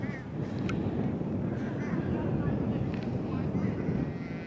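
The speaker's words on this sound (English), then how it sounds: "It's super windy." Heavy wind buffets the microphone with a constant low roar, loud and steady throughout, at Volunteer Point on the Falkland Islands.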